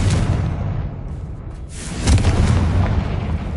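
A Confringo blasting spell going off in a wizard video game, heard as a sustained, loud, rumbling boom with a deep explosive roar that swells again midway and stays heavy throughout.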